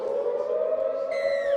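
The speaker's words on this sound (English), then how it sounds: "Siren goes off." A loud, steady siren wails to start a Div 1 schools sports match at a field, one sustained drawn-out tone that rises in pitch near the end, with no talk over it.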